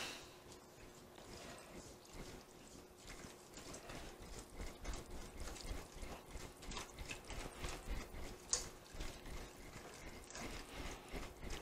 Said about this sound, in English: we're just going to whisk it all together